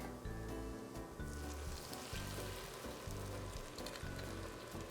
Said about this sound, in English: Our tomato paste has been browned, and now it's time to deglaze with vodka.